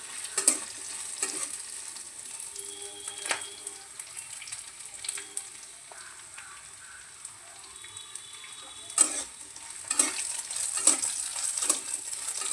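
Mustard seeds fry in oil in a wok, letting out quiet scattered crackles and sharp pops at irregular intervals over a low, faint sizzle, with no talking.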